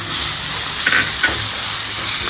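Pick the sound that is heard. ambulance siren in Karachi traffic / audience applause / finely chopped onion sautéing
finely chopped onion sautéing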